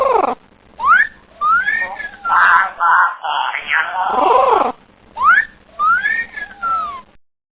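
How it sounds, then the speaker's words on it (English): A parrot whistles loud, rising and falling calls in short repeated bursts, with some harsher screechy notes in the middle, heard alone without talk. "P for parrot."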